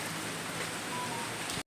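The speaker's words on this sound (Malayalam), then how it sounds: "ആകെ മഴ" Steady rain hisses as an even, close wash of noise on a wet day near a roadside eatery on the Athirappilly to Valparai route, continuous and unbroken for the short stretch with no voices.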